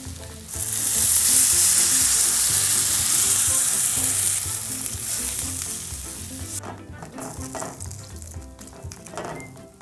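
Onions fried in oil with cumin and chili powder sizzle loudly for curry, then water poured in softens the hiss to a quieter bubbling simmer, with occasional stirring clinks.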